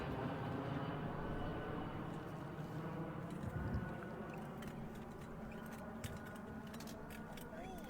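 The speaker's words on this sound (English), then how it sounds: "Sounds like an airplane." An airplane drones steadily in the background, a broad low rumble that holds for several seconds, partly under people talking.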